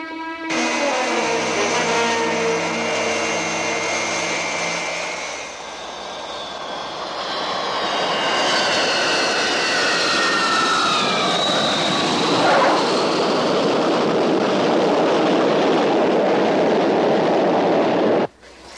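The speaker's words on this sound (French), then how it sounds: "Le colonel Freeman vient d'atterrir à Lexfield, au Canada" A fixed-wing aircraft lands at an airfield in Canada, its engine roar loud and steady throughout, with a rising whine and tonal sweeps in the middle as it sets down, then cuts off abruptly at the end.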